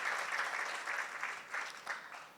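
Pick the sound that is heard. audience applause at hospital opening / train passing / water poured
audience applause at hospital opening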